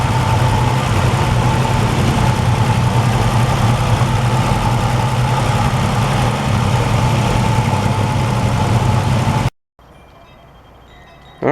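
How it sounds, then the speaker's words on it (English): A big block 305 V6 engine in a 1968 GMC truck converted to a 2500HD chassis runs at a steady, loud, close idle with a deep rumble, then cuts abruptly to a quiet background. "That, my friends, is a big block 305 V6. Yeah, it still runs"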